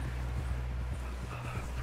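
Horse hooves clip-clop at a steady walking pace in the Red Dead Redemption 2 video game, a continuous low rhythmic plodding close by with no talk over it.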